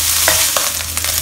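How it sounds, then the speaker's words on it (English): Steady sizzle of pork belly pieces frying in a pan, rendering their fat, with a few soft scraping stirs over the constant hiss. "So I will keep frying them until the fats are out."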